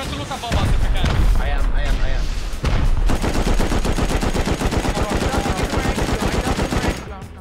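Turret gunfire in a multiplayer raid video game: a loud, rapid, sustained burst of automatic shots rattles almost continuously, with voices talking underneath.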